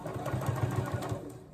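A sewing machine stitches fabric basket seams in a quick, even run of mechanical pulses, close and moderately loud, over a short burst with no talking.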